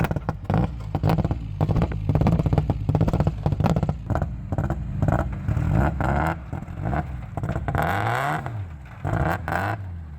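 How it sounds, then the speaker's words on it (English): A rally car idles on a snowy surface, its engine running with an uneven, lumpy pulse and occasional rises in revs, loud and close throughout with no talking. "it's the sound of idling rally car."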